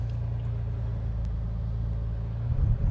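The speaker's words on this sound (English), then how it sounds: "While we wait for some of the traffic to go by" Road traffic heard from inside a 1967 Aston Martin DB6 Coupe waiting to pull out, a steady low engine rumble swelling as a vehicle passes near the end, with no talk.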